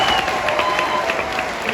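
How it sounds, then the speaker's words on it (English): An audience at a western music show at the Flying W Ranch applauds a singer, with steady close clapping that fills the short stretch without pause. "Would you give him a big round of applause?"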